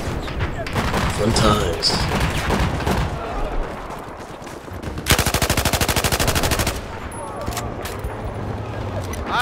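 Battlefield 4 game gunfire: bursts of shots and a sustained rapid machine-gun volley midway, mixed with game noise while a player talks over it.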